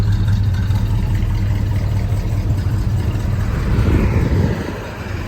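A 1964 Chevrolet Malibu convertible engine runs close by with a steady, low, rumbling idle that eases off slightly at the very end.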